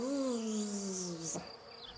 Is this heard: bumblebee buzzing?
yes